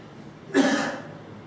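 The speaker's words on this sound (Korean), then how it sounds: "저는 계절이 바뀔 때마다 기침이 가끔씩 이렇게 많은 기침이 가끔씩 나와요" A single cough bursts out close by, short and fairly loud, then fades into quiet room tone; it comes from a speaker during a church family-day sermon.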